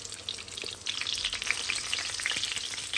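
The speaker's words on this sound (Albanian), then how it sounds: "Shniclat i rrotullojna në ondën tjetër. Pjekun pra, pjekun mirë." Breaded schnitzels coated in egg and breadcrumbs fry in hot oil in a pan, a close, continuous crackling sizzle with bright popping spatters that swell in intensity after a brief quieter start.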